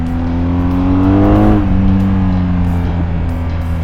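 A 2019 BMW R1250GS Adventure motorcycle's big twin-cylinder engine runs loud and close. Its strong humming tone climbs in pitch to a peak, then falls back and keeps running steadily.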